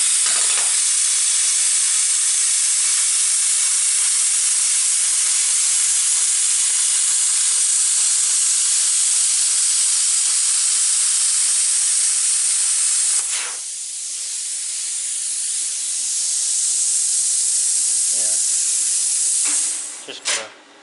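A cutting torch slices through a metal flitch backstop for an LT15 sawmill, giving a loud, steady roaring hiss that drops and shifts partway through before cutting off near the end.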